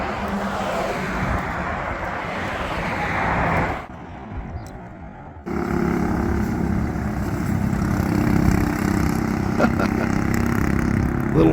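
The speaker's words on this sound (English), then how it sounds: "Little four-wheeler." A small four-wheeler engine runs with a steady, rough drone. It cuts out briefly partway through, then resumes at a similar level.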